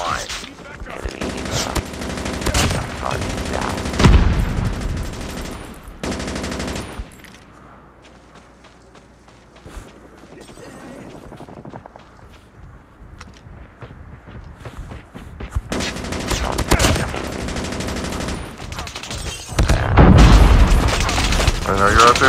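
Rapid automatic gunfire and booming blasts from the mobile shooter game Call of Duty Mobile come in loud bursts, fading to a quieter stretch before heavy firing resumes near the end, with talk in the background.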